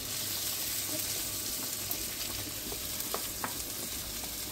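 Garlic fries in a pan, a steady close sizzle with a few light scrapes and taps as it is stirred.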